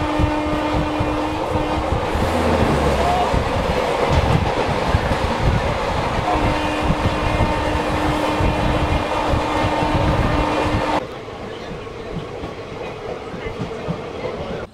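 Kolkata–Digha train running steadily, with continuous loud rumble and rhythmic wheel clatter from inside the carriage, a steady hum throughout and the sound dropping slightly quieter near the end.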